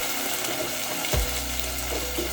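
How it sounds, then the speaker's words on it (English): Water runs in a steady, gushing pour into a pot of peas for potato and pea minji stew. A heavy low splash starts partway through and continues close and loud. "Then I'll add in some water,"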